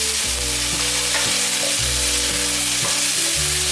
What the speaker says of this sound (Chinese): 姜末炒香后，现在放入番茄。